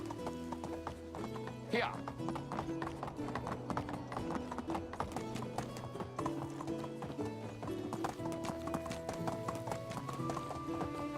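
Steady clip-clop of horse hooves in the medieval survival game Medieval Dynasty, with a brief whinny, under game music and a voice talking.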